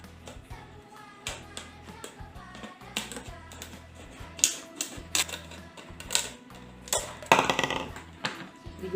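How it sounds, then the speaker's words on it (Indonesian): Scissors snip through a used plastic bottle in a series of irregular cuts and crinkles, close and fairly quiet, with a few louder crunches near the end and no talking. "Nah pertama-tama kita gunting dulu botol bekasnya"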